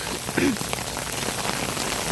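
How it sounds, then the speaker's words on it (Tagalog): Heavy rain pours down steadily outdoors on a street walk to a pharmacy, a dense, continuous hiss of drops striking surfaces that holds loud and even throughout. "Dito, ang lakas ng ulan, lumabas ako."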